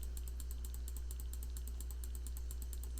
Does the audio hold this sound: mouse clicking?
yes